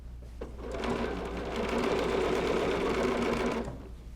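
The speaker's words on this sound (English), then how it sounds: "I'm just going to sew down the side until I get about 3/8 away from this corner" A sewing machine sews binding down the side of a quilted table runner near a 120-degree mitered corner, starting up, whirring at an even, close, steady pace for about three seconds, then stopping.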